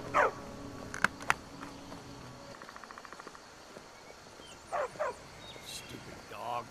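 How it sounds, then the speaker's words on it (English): A dog in the Skyrim VR video game lets out a few short yips and barks, close and clear, separated by quieter stretches with a brief rapid clicking patter and people talking at times. "Stupid dog."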